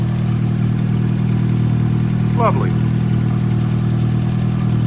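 A Mazda Miata engine with a new 3-inch V-band downpipe idles steadily up close, a smooth, even drone with no exhaust leak, while a voice speaks briefly over it.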